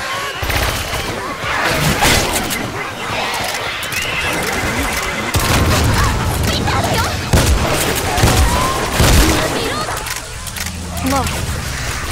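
Left 4 Dead 2 combat on a zombie-survival map, with dense gunfire and booming grenade blasts in a loud, continuous barrage while players' voices come through over the noise.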